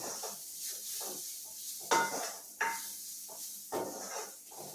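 Moringa leaf thoran being stirred in a pan, with several sharp scrapes and clinks of a spoon against the metal over a faint sizzle. The sounds are close and quiet, and no one speaks.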